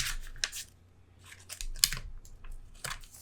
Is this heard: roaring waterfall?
no